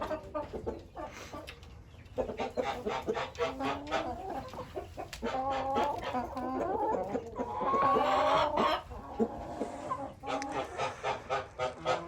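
Sussex chickens cluck and call inside a coop, a steady chorus of overlapping nearby clucks with louder squawking bursts toward the end.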